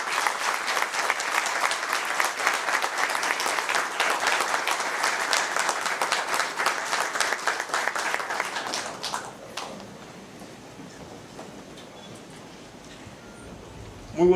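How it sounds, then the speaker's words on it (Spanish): A large audience at a speech breaks into loud applause for attorney Pelegrín Castillo, a thick, steady roar of clapping for about nine seconds that then cuts off sharply, leaving a quieter room with low murmur. "Un estruendoso aplauso para el licenciado Pelegrín Castillo."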